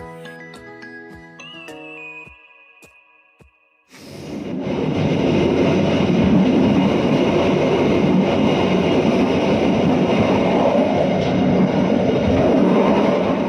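A few tonal chimes ring out, then a loud, steady rumble of the Airlangga passenger train rolling on rails from Surabaya to Jakarta takes over, continuous and close.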